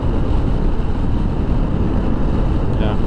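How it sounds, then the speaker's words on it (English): A strong headwind buffets the rider on a Honda scooter at speed, producing a continuous, loud, roaring wind rush across the microphone with no breaks. "fighting a pretty good headwind in here"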